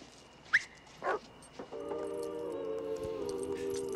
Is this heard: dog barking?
yes